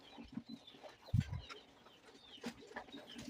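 Hens cluck softly at feeding time, with a couple of short low clucks that stand out over faint scattered farmyard noise.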